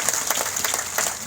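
Applause at a JDU district conference rally in Lajpat Park, Bhagalpur: a brief, dense burst of crowd clapping that stays steady and fairly loud throughout.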